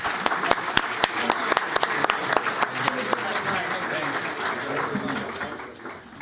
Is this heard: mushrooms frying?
no